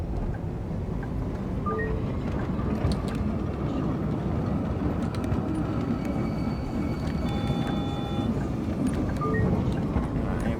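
A tram rolls steadily through the Angel Shores city in the video game Tram Simulator Urban Transit, a continuous low rumble with faint brief tones over it, constant and close throughout.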